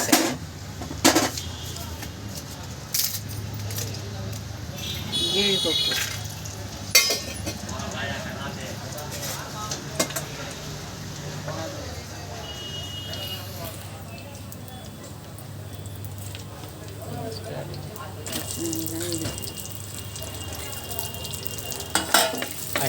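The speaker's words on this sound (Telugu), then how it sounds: "మట్టి పాత్ర వేడెక్కిందండి ఇప్పుడు ఆయిల్ వేసుకున్నాం మనం" Oil sizzling in a heated clay pot while tomato rice is being prepared, a steady low hiss with scattered clinks and stirring knocks, with a voice talking at moments over it.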